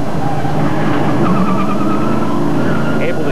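An ASA stock car at Nashville is heard from on board, its engine roaring loud and steady with rising and falling pitch as it laps the track, and faint talk sits underneath.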